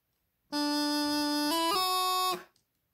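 Bagpipe practice chanter playing a short phrase of D, then E, then a quick G grace note into F: a reedy, buzzy sustained tone that steps up in pitch, played close and alone for about two seconds.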